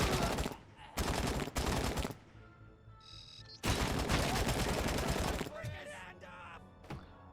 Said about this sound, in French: j'aime pas trop le bruit de cette arme